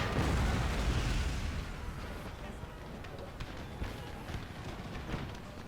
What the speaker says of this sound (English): Goddamn howitzers got us absolutely targeted here.